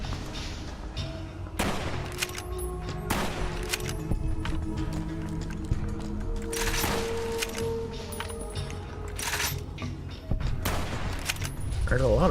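Gunfire and grenade blasts ring out in a Fallout: New Vegas firefight in Fiend territory, with sharp shots and heavier bangs coming in irregular bursts while someone talks over the action.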